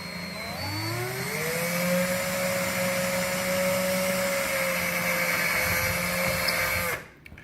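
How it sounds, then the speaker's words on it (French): A small electric drill with a narrow bit bores slowly and steadily into a battery-powered Christmas decoration, its motor holding a sustained whine that rises at the start and stops abruptly near the end, loud and alone. "je m'amuse à percer le trou. Tout doucement et sûrement."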